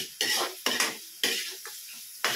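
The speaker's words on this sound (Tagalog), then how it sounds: "Parang trinitoran natin yung mushroom pero sa butter." Mushrooms frying in butter for a creamy beef dish as a utensil stirs them, with bursts of scraping and sizzling against the pan in several distinct strokes, loud and close, no talking.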